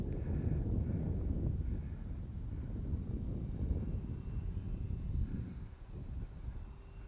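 A Lidl Spitfire RC model airplane flying at three-quarter throttle, giving a steady, fairly loud motor drone with wind buffeting that eases slightly toward the end.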